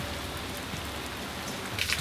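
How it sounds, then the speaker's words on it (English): Rain falls steadily as a dense, even hiss throughout, with a slightly louder patter of drops near the end and no talk. "Oh, it's raining."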